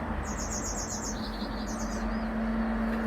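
Birds chirp and trill outside an outdoor woodworking workshop, a run of quick repeated high notes over a steady background hum, with no talking.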